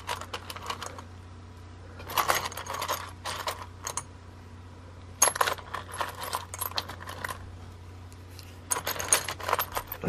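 Metal washers jangling and clinking as they are handled and sorted, light bright clusters of rattles in several bursts over a low steady hum.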